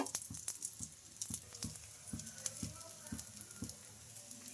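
Oats and moong dal dosa fries in oil on a pan, giving a soft, continuous sizzle with small crackles and light scraping taps throughout, quiet and close.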